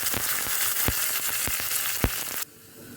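Garlic and curry leaves sizzling in hot oil with mustard seeds and urad dal, a loud dense crackle with sharp spattering pops that cuts off abruptly near the end.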